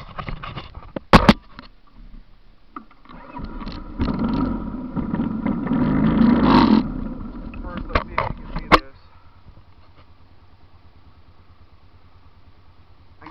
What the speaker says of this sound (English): Now we're going to take it for a little drive.